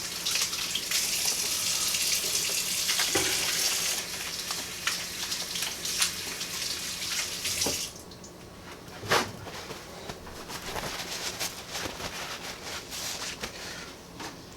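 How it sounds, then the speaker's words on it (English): Water runs steadily from a kitchen tap for about eight seconds during hand washing, then cuts off, leaving faint clatter and small splashes nearby. "Let me wash my hands real quick."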